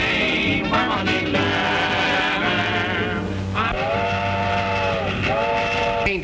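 A train running in a 1929 short film, a steady loud rumble of rail cars overlaid with sustained steam whistle blasts, no talk.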